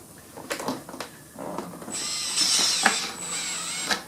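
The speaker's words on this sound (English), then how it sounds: "now we'll go ahead and install the 3 screws on the side here" A screw gun drives screws into an interior door jamb, giving several short whirring bursts and then a longer high-pitched whine near the middle, at close range in a quiet room.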